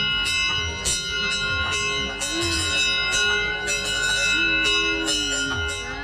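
A bell at the finish line of an obstacle race rings again and again, bright metallic strikes with long overlapping tones, loud and persistent over crowd noise.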